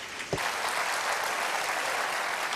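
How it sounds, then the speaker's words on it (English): An audience at a World Environment Day ceremony breaks into steady applause that holds evenly throughout, without speech. "A big round of applause."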